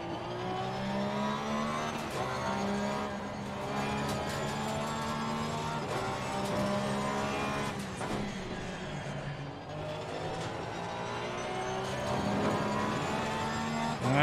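Porsche 911 GT3 R race car in the Assetto Corsa Competizione racing game, a continuous engine drone that rises and falls through gear changes, with tire noise and a few brief clicks.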